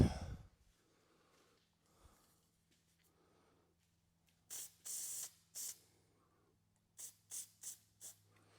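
Two bursts of aerosol spraying on a Case 1840 skid steer frame: a few longer hissing sprays, a pause, then four short quick spritzes, close and loud against a quiet room.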